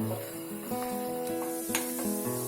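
Onions sautéing in a pan for coriander rice give a soft, steady close sizzle with light stirring, while tonal background music plays over it.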